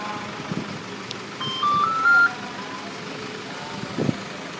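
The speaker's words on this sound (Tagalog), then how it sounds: "antayin ang confirmation sound upang malaman ang inyong sasakyan na nag-start na at ang pinto ay nakalock" A Toyota Fortuner with a remote starter gives a confirmation signal of short rising electronic tones, stepping up in pitch over a low idling engine, with soft thumps before and after.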